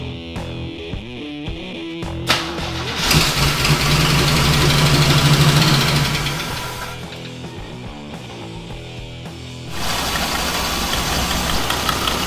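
An old, long-forgotten off-road vehicle's engine cranks and catches, then runs at a rough, knocking idle with steady mid-range rumble and vibration, loud and close, rising again near the end.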